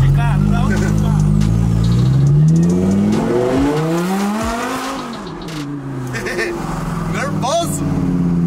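A Lamborghini sports car roars loudly up close, its engine revving and pitching up and down as it pulls away, with people talking over the noise.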